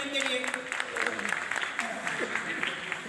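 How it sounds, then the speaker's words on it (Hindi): An audience at a junior quiz competition applauds a correct answer. The scattered clapping runs beneath a voice that keeps talking over it. "तालियां होनी चाहिए इनके लिए"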